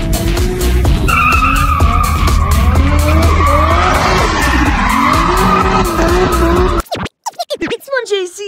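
Loud, continuous traffic on a busy main road with engines whining up and down in pitch and tyre noise close by, ending in a burst of sharp clattering.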